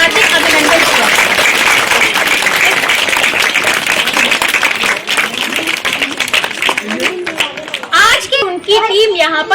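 Audience applause at a Vidya Swaroop Foundation event, a dense wash of clapping that runs steadily for most of the time, then thins out, with a few voices and children heard near the end.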